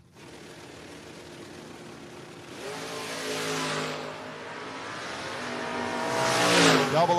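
Drag cars, an Oldsmobile and a silver Camaro, launch off the line at a no-box 660 shootout, their engines rising into a loud, sustained roar that builds as they pull away, with no talk over it.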